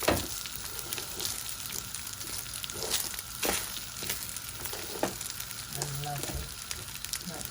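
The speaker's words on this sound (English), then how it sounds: "we're just going to keep frying it till it's a nice golden colour" Continuous sizzling and crackling of rice frying in a hot pan, with occasional stirring scrapes and a faint voice in the background.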